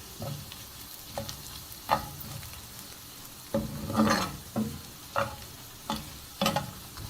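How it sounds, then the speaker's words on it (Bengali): Five or six dried red chilies fry in hot oil with browned onion and garlic, a continuous close sizzle broken by rhythmic stirring scrapes of a spatula in the pan. "এখন আবার একদম তেলের মধ্যে ভেজে দিব ভালো করে।"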